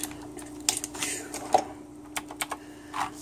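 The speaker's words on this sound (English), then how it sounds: "So, got a little typing on it. It's clicky. It's definitely a clicky board." Clicky keystrokes on an Azio MK Retro mechanical keyboard, a sparse, irregular run of sharp taps heard close and alone against a faint steady hum.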